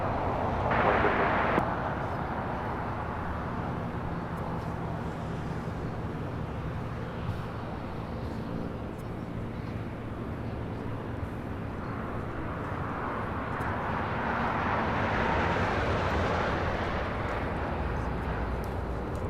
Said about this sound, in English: This is Lufthansa 457 taking off to Frankfurt on a 747-8 Intercontinental.